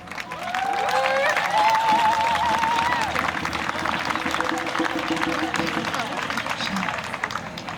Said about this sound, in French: je vous invite à applaudir très, très fort nos acteurs et comédiennes autochtones